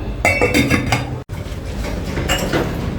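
Dishes, pots and cutlery clink and clatter while being washed in a home kitchen, a steady run of close, sharp knocks with a brief silent break in the middle and no talking.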